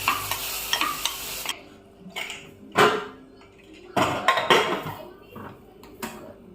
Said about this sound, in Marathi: या सर्व कट केलेले गाजर, फ्लावर, त्यासोबत बटाटा, काकडी, शिमला मिरची आणि ही डाळ धुतलेली, याला यामध्ये तडका देणार